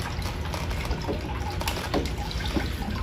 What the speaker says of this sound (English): So we're pulling water out of the wells.